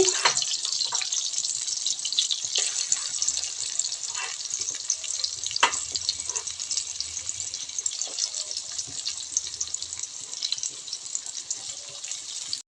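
Chopped onions hit a pan of softened tomatoes for butter chicken and fry in a bright, steady sizzle, broken by occasional crackles and light stirring knocks.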